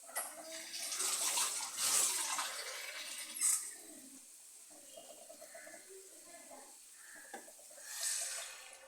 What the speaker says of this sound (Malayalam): ഇതിന് 2 കപ്പ് വെള്ളമാണ് കേട്ടോ ഞാൻ ഒഴിക്കുന്നത്